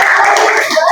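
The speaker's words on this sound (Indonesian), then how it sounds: "Oke, tepuk tangan buat kita semua" A classroom of children applauds together after a concentration game, a dense, sustained patter of hand claps filling the whole moment with a teacher present.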